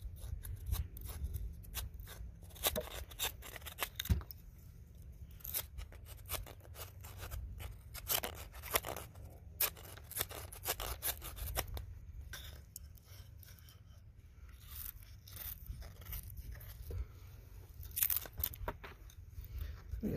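A CRKT M21-14G serrated knife sawing through material in a series of faint, uneven rasping strokes and scrapes, quiet and close, with no talking.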